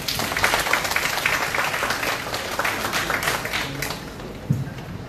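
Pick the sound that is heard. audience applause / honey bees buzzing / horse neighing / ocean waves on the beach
audience applause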